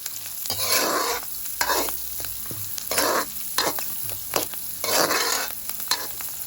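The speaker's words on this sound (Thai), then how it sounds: "หอมหัวใหญ่กับเนยก่อนนะครับผัดให้หอมนะครับ" Onions sizzle loudly in hot butter in a wok as a utensil scrapes and stirs in repeated bursts, close up with no talking.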